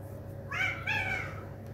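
A cat meows twice in quick succession indoors, two short rising cries standing out over a steady low background hum.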